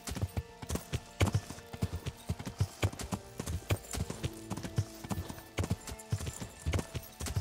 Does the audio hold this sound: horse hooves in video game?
yes